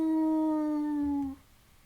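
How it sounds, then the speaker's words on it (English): A creature in the Tsukihime visual novel lets out a single sustained, sharp, high-pitched howl, loud and steady before cutting off abruptly, with no talking. "Something is howling."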